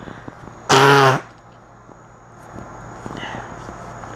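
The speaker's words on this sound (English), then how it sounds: "I have to blow my nose." A single loud nose blow lasting about half a second, close to the microphone, followed by quiet room tone and a faint brief voice.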